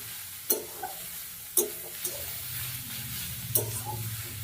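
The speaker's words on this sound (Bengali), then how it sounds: "ধৈর্য ধরে কুমড়োটাকে ভেজে নিতে হবে" Pumpkin pieces sizzling in a pan with sugar and coriander, a steady soft fry punctuated by three sharp scraping stirs of a spatula against the pan, close and fairly quiet, no talk.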